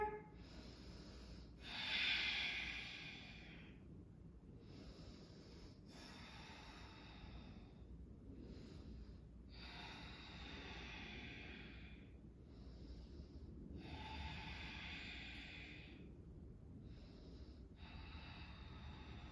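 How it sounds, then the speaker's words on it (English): Slow, deep breaths during a yoga pose, each long airy inhale and exhale close and soft, repeating in a steady rhythm with quiet pauses between, no talking. "We're going to do 5 deep breaths here."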